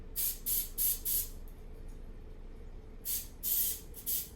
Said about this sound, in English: I'm going to take a minute to spray my hands with non-stick cooking spray